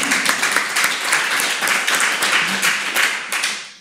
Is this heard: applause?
yes